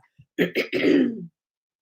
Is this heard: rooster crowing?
no